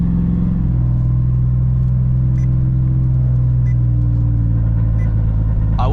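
A truck engine rumbles steadily while driving, a loud, deep, continuous drone that shifts pitch slightly as it runs, close and unbroken.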